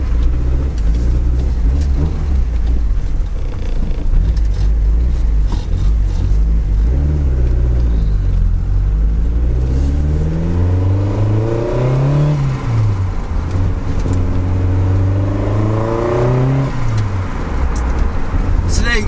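Lotus Esprit Turbo pulling away in first gear on a road, a loud close engine drone rising in pitch through repeated revs, with someone talking over it and traffic around, a bus nearby.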